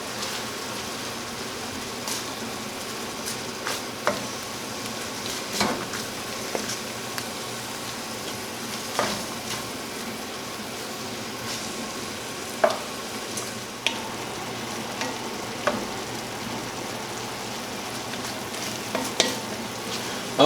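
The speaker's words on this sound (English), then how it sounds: "Give this a good stir." Vegetables and onions for homemade holiday stuffing cooking down in a pan, a continuous sizzle with intermittent scraping and clicks of a spoon stirring throughout.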